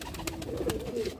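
A Garra pigeon cooing at a pigeon sale in Lucknow, a short soft throaty coo heard close, alone and without talk.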